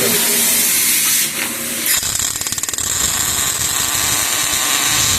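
Gasless flux-core wire welder from a Kaiser, Edon machine arc welding, with a steady loud crackling hiss that fills the clip and a burst of rapid pulsing stutters around the middle.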